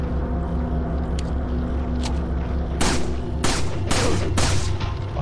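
Gunfire in the video game Resident Evil 4: several sharp, loud shots burst out in the second half over a low rumbling game background, with no speech.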